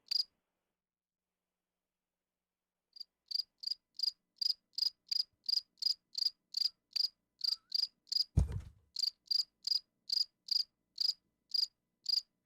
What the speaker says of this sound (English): After 15 seconds of crickets